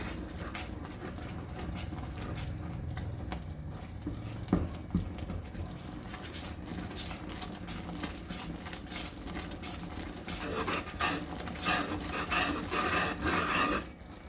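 Walnuts and puffed fox nuts (makhana) being stirred and mixed together, giving a steady dry rasping, rubbing rustle that grows busier and louder toward the end, with no talk.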